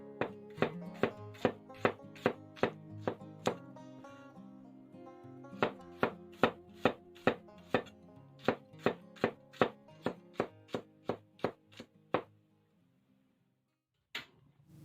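A knife slices shallots rapidly on a cutting board, about two dozen crisp, evenly spaced chops in a steady rhythm, close up, then silence and one last tap.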